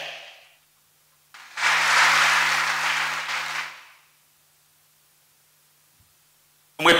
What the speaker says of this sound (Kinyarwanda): yayishimiye mu yimpera amashyi menshi cyane